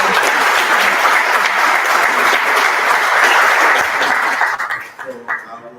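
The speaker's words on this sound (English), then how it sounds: "I think we should give a round of applause." An audience at the POMSYM LIVE 2025 event applauds steadily and loudly in a dense wash of clapping that holds for over four seconds, then thins out and fades near the end.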